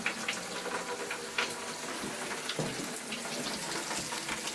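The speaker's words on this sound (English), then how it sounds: "put the bucket underneath the sink and turn the sink on" Water runs from a sink tap into a bucket below, a steady, fairly quiet splashing rush with a few small clunks and shifts, close by and with no voices.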